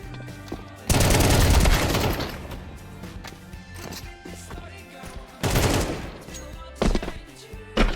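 Rapid turret gunfire bursts loudly in a video game, with two heavy volleys separated by quieter rattling, clattering impacts and game noise between them.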